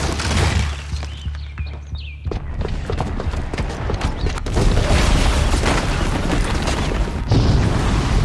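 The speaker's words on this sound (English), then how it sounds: "the booby trap on the bomb downstairs is gonna get set off" A booby-trapped bomb goes off in Horizon Zero Dawn, a loud continuous blast of booming, crashing debris and rumble that fills the scene without pause.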